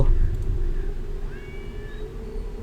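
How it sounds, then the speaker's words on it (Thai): Cats in a video game apartment meow several times, short rising calls over a steady low hum, with no speech. "โอ้โหแมวเต็มเลย"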